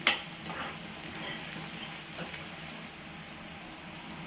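Onions fry in a pan for a prawn dish, a quiet, even sizzle with a few light clicks and pops spread across the moment.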